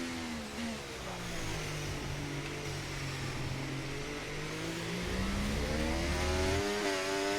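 Formula 1 race car engine in F1 24, Monza outlap, screaming steadily with rising and falling pitch through gear changes, loud and continuous with no talking.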